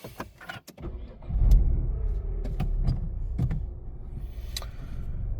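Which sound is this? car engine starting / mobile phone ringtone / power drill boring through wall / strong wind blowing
car engine starting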